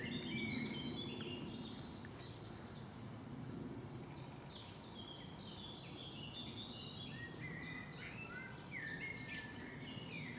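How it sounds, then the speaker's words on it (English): Bird song on a countryside walk in southern England between Guildford and Horsley: several birds chirp and trill across a soft outdoor background, fairly faint and distant, with no talking. "Plenty of bird song."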